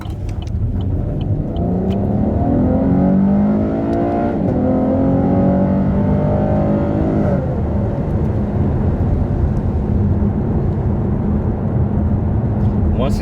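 An automatic car driven in manual mode revs loudly as it climbs through the gears toward 6,000 to 7,000 rpm, the engine pitch rising and dropping between shifts under someone talking throughout.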